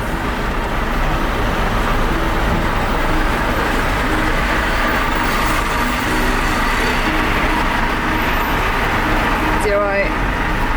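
Loud, steady rumble of lorries and idling traffic around a small camper van on a ferry deck, continuous low engine drone with people talking over it.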